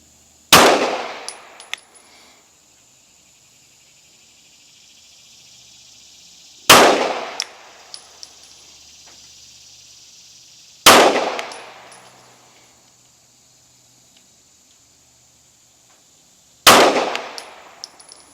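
Rifle fired at targets during a scope zero test at 25 yards, four sharp, loud shots spaced several seconds apart, each with a ringing decay and quiet between.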